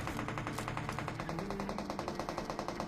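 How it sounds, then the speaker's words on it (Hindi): Sustained automatic gunfire from a gunfight in PUBG Mobile rattles in a rapid, steady stream of shots, loud and continuous with no talk over it. "और ये गन फाइट का साउंड था सामने इस वाली स्टैचू से"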